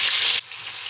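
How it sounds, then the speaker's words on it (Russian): Pieces of lamb heart fry in hot refined vegetable oil in a pan over maximum heat, giving a loud, close sizzle that drops off sharply partway through. "Жарится сердечко 1-2 минуты в зависимости от кусочков."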